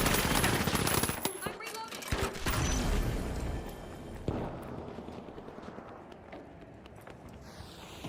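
SMG fire in a first-person video game crackles in rapid bursts at the start, then tapers into scattered shots and quieter movement sounds.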